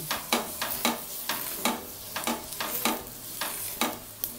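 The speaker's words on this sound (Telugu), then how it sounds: "పైన లేయర్ కట్ చేసి తీసుకుని ఆయిల్ వేసి దానికి బాగా రుద్దాలి." An oiled, cut onion half is rubbed across a hot dosa pan, making a close, rhythmic series of short scraping sizzles, about a dozen quick strokes with no talking.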